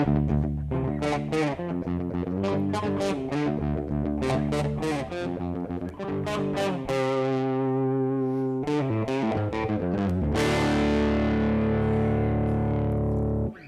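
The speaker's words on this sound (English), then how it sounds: "you can create a distortion effect for your guitar" An electric guitar runs through a distortion effect coded in JavaScript, playing a string of gritty, sustained notes and chords with a buzzy, saturated tone, loud and continuous.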